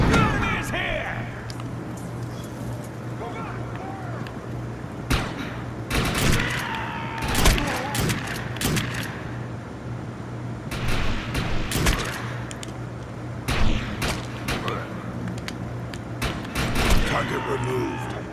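Gunfire from a shooter video game, with repeated bursts of shots and sharp impacts over a steady low game hum, punctuated by brief loud volleys at irregular intervals.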